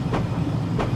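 A train on the Bernina Line in a train simulator cab ride rolls along with a steady rumbling wheel drone and two distinct clickety-clack rail-joint knocks about two-thirds of a second apart, moderately loud with no voices.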